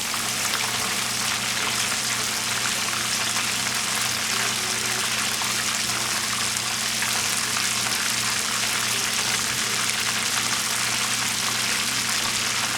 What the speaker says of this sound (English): Sounds like those are frying up nice.